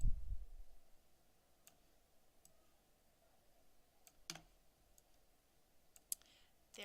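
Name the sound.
mouse clicking to drag pictures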